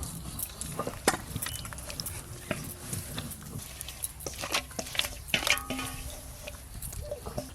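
A wet mix of hilsa fish, eggplant and spices is poured and scraped into a tiffin box, giving squelchy, splattering liquid sounds and soft knocks close by with no talking.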